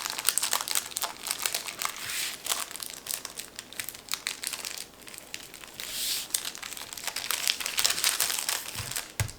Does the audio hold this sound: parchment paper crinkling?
yes